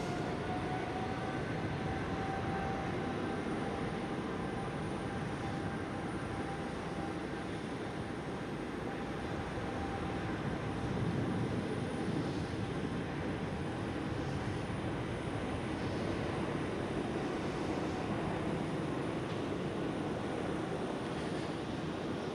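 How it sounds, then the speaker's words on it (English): A KLM Boeing 777-300ER at Schiphol airport produces a steady, loud jet engine roar with a faint whine, sustained without pause and heard alone with no voices. "There goes the 777-300 ER of KLM."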